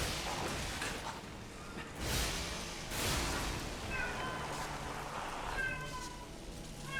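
A pet cat meows loudly and repeatedly indoors, several drawn-out cries in the later seconds over steady background game noise and muffled thumps.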